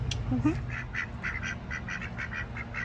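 Ducks quack repeatedly in a steady, rhythmic series, fairly close, with a brief human voice at the start.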